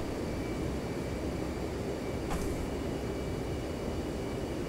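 A jet aircraft engine on final landing approach in the DCS flight simulator gives a steady, loud, unbroken roar and hum with one brief hiss partway through and no talking.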